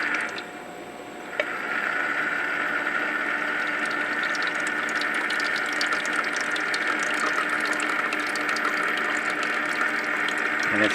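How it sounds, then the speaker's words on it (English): An Aldi Kitchen Living countertop ice maker's pump starts after a quiet second with a click, then runs as a steady close hum with water trickling and gushing as it fills. "You're hearing the pump now."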